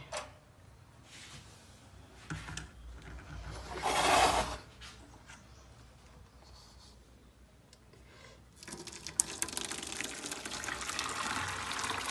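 Milk curdled with vinegar is poured through a strainer to separate paneer from whey, giving a brief splashing gush and later a steady trickling stream of liquid, with no talking.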